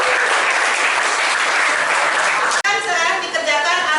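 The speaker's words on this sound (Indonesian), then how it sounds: "Jadi kalau saya ulang tepuk tangan semua." Students in a mathematics classroom clap together, a loud, dense burst of applause that stops abruptly, followed by a teacher's voice speaking in the room.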